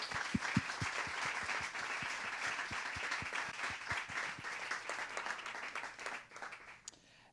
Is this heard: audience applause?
yes